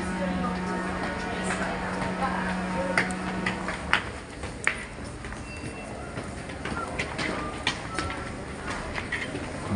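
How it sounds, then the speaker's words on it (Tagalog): A London Underground tube train rumbles past outdoors near Westbourne Park and Royal Oak, a steady wash of rail noise with a low hum fading early, under scattered voices and brief clatters. "Sa labat tong tube nila eh. Yung train."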